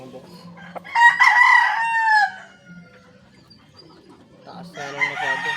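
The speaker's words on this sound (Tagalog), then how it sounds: "Magandang manok din" A rooster crows loudly and close by, a long harmonic call stretching over a second, followed by quieter clucking and another crow starting near the end.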